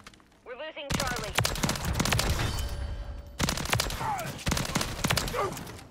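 Light machine gun fire in Call of Duty: Modern Warfare 3 comes as two long, loud sustained bursts of close rapid shots, separated by a short pause, with voices speaking briefly before and between them.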